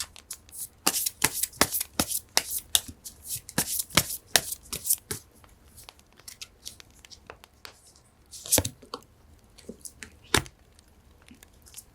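Tarot cards are shuffled close up in quick, crisp bursts of riffling and tapping, busy for several seconds, then thinning to sparse soft flicks and a few louder taps.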